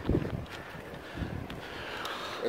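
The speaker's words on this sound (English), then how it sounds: "It's windy up here." Gusty wind on a hilltop lookout buffets the microphone in low rumbling bursts, rising and falling with a steady airy rush.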